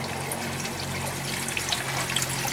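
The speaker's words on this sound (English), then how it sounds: "the water is constantly moving through those pellets and such" Water trickles steadily through the pellets of an aquaponics grow bed, a faint, continuous, close-up wash of liquid with no pauses and no voices.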